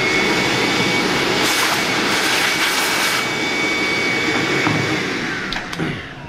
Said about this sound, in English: And we're vacuuming as well, just to be thorough.